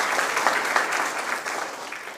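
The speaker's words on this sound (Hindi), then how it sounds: "एक बार जोरदार तालियों से इनका भी स्वागत कीजिए" Loud, steady applause from an audience welcoming a school principal panelist at a college higher-education discussion, a dense even patter of many hands with no talk over it.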